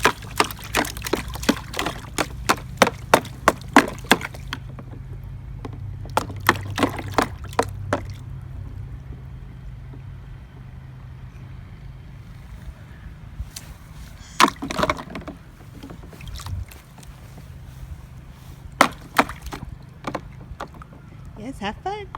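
A child splashes water at a small backyard water table, producing a run of sharp, close splashes and slaps with brief pauses between bursts, while adults talk at times in the background.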